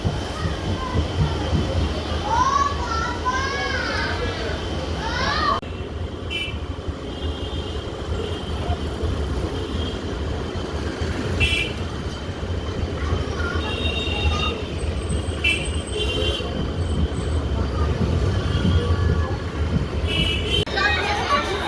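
Steady rumble of a nearly empty passenger train running along the tracks between Krishnanagar and Amghata halt, with rattling and occasional squeals throughout; a voice speaks over it near the start.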